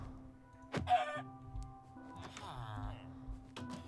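Minecraft chickens cluck in short, clipped bursts, with a few sharp game clicks between them and a voice talking faintly underneath.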